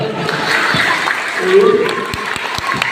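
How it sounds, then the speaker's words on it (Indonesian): An HKBP church congregation in Patumbak applauds during a Christmas sermon, a steady wash of crowd clapping with voices and tones running beneath it throughout. "Tepuk tangan buat Tuhan."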